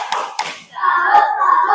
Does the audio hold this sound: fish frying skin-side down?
no